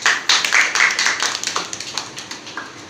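At a school debate competition, the audience claps: a burst of crisp, fairly close hand claps that starts loud and then thins into slower, fading claps by the end.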